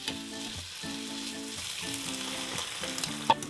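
Pork and onions cook in sauce in a covered pan with a steady, moderate sizzle, alone and close, with a sharp click near the end and a musical tone underneath.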